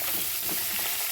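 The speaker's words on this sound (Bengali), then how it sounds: "এই যে ফুলকপি ভাজা হচ্ছে।" Cauliflower frying in a pan gives a steady, close, dense sizzle with no talking over it.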